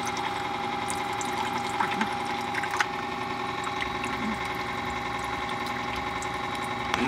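Water runs steadily and fast from a hose set up for drip acclimation of a pet, a continuous, close gushing hiss with a faint pump-like hum underneath.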